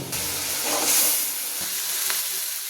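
Chili, garlic paste and ginger paste fry in hot oil with a dense, continuous sizzle that swells briefly when the ingredients hit the pan. A few faint stirring taps sound close by.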